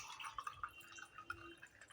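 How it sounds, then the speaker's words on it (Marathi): Water is poured into a glass filled with ice for kokum sherbet, giving faint, close trickling and splashing with small clinks of ice against the glass. "बर्फानंतर आपण घालणार आहोत पाणी."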